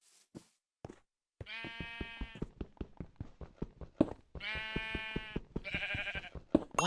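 Minecraft sheep bleating in a video game, a pink one among them; several drawn-out, wavering bleats come in bursts over steady clicking footsteps and other game sounds, fairly close and clear.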